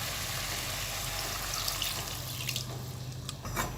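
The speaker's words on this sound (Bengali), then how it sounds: "আমি এখানে 1/2 কাপ পরিমাণের মতো পানি দিয়ে দিচ্ছি।" Water poured from a cup into a pan of chicken feet cooking on the stove, a steady close splashing stream that tapers off with a few trailing drips.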